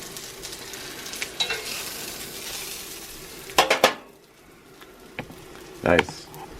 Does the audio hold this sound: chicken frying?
yes